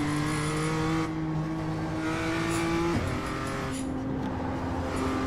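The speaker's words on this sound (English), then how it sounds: "I don't know if you can hear the tires, but like the car just slides a lot" A BMW M2 in the iRacing sim holds a steady, loud engine drone through a racing sector, with a pitch drop around the three-second mark as the tires slide and scrub beneath it; no voices.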